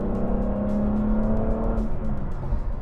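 A 2005 Aston Martin Vanquish S with a V12 engine and six-speed manual holds a steady, close-up drone with a sustained tonal hum, a dense roar held at an even level throughout.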